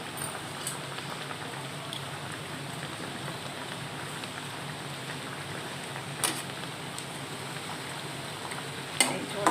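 Bata fish curry with carambola, potato and mustard-poppy paste bubbles gently in a pan, giving a soft, steady sizzle with occasional small pops and clinks, close and fairly quiet with no talking.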